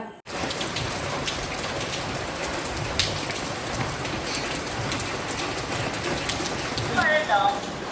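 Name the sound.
rain falling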